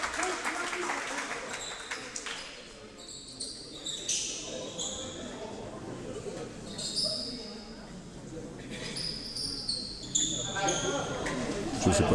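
A crowd at a men's basketball game applauds a substitution, steady clapping running through the whole stretch with a few sharp sneaker squeaks cutting in and an announcer speaking over the noise.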